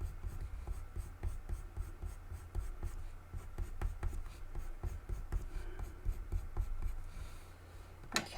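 Pencil blending over paper while shading puppy fur, a soft continuous scratchy rubbing with rhythmic strokes, close and quiet with no talk.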